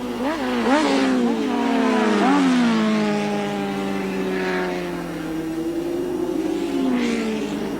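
Superbike engines from Suzuki and Kawasaki machines at a 1983 race heat, loud and close, roaring through rising and falling revs as the bikes pass and change gear.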